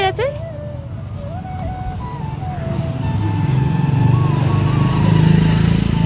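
A motorbike engine drones low and gradually grows louder as it approaches along a hill track near a Buddhist monastery in Nepal, while people talk nearby over the rising engine.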